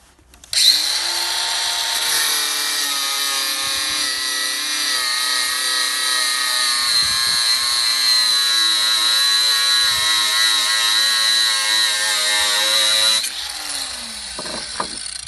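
Worcraft CAG S20Li-125 cordless angle grinder spins up and cuts through a leg piece in one long, loud, steady high-pitched whine for about twelve seconds, then winds down, close by.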